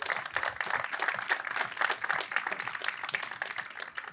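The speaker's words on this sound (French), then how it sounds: "On peut peut-être avoir des applaudissements." Audience applause at a local investment awards ceremony in the Indre, a steady wash of many hands clapping at moderate distance, fairly even throughout with a faint voice now and then underneath.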